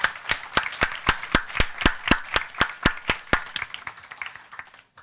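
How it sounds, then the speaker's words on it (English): An audience at a valedictory function for a food science conference claps in a sharp, regular rhythm of distinct loud claps, thinning out and stopping at the end. "A big round of applause"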